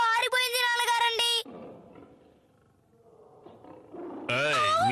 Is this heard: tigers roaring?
yes